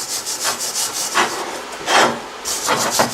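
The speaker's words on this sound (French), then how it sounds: "Les petites projections s'enlèvent à la brosse métallique" A metal wire brush scrubs weld spatter off steel after TIG welding, making harsh, repeated scraping strokes at close range with brief pauses between passes.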